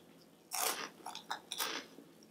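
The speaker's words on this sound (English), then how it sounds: "the crunch, if you haven't had crab rangoon" Crunchy crab rangoon from Chinese takeout bitten and chewed close to the mic, a loud crisp crunch followed by a few shorter crackling chews over roughly two seconds.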